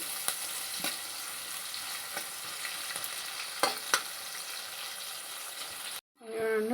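Sliced onions for a drumstick and boti (tripe) curry fry in a pan with a steady crackling sizzle, punctuated by a few stirring knocks, close by; near the end the hiss cuts out and a brief different sound follows.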